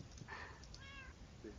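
Pet cats meowing indoors, a few short faint mews in quick succession, one rising and one lower, heard at a distance under a quiet background.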